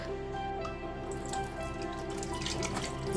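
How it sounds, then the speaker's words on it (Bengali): A kitchen tap runs weakly as the water tank empties, giving a thin, steady trickle with faint drips, close and quiet, with no talking. "জলের স্পিড নেই মানে ট্যাঙ্কিতে জল শেষ হয়ে গেছে"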